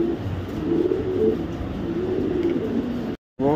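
A racing pigeon kept for sale coos in a low, rolling, repeated call close by, continuing steadily before a brief dropout near the end, after which the cooing resumes.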